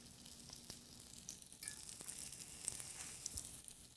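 Farmer cheese patties sizzle steadily in a frying pan over reduced heat, a soft continuous crackle and hiss with small pops, close and fairly quiet, with no talking.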